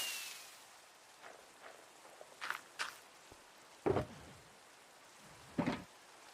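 Rain falls in a video game as a faint, steady patter, broken by a few louder scattered taps and thuds that could be footsteps or heavier drops.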